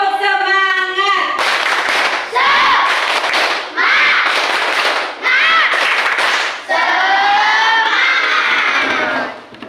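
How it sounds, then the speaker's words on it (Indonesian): Group hand clapping in a classroom, loud and close: rhythmic bursts of clapping alternating with children's chanting and shouting voices over nearly ten seconds. "kita tepuk tangan"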